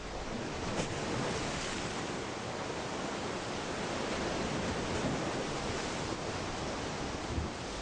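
Steady roar of ocean surf breaking in the rompientes where marine iguanas cling to rocks, a continuous broadband wash with no distinct individual wave onsets.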